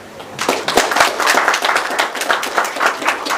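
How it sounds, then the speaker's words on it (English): An audience applauds three gentlemen at a health-sector gathering with steady, dense clapping that runs the whole stretch at a moderate, fairly close level, no voices standing out. "A big applause to those three gentlemen."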